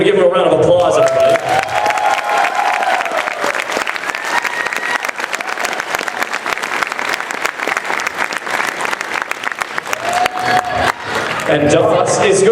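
A large convention audience at a MAGFest panel breaks into loud, sustained applause with some cheering, dense clapping filling the hall for several seconds.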